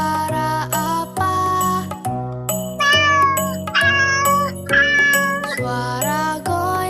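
A playful cat meows over cheerful, jingly children's music, its rising cries sitting clearly on top of the steady melody.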